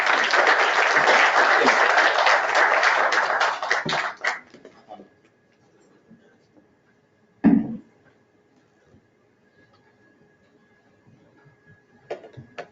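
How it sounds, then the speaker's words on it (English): A round of audience applause at an annual member network meeting with an iftar dinner, strong for about four seconds and then cutting off sharply, followed by near silence and a couple of brief knocks. "Big round of applause for Sajjeed"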